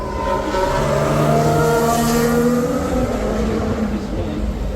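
Formula 1 race cars sweep through a corner at a race track, their engines rising and falling in pitch as they pass nearby, loud and continuous, heard from beside the trackside fence.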